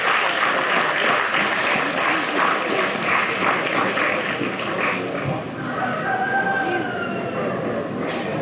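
Crowd applause at a livestock swine show, dense sustained clapping rolling steadily for several seconds in a large indoor arena, with faint animal calls and murmurs mixed in.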